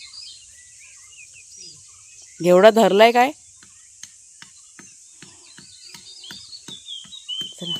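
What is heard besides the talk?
birds calling outdoors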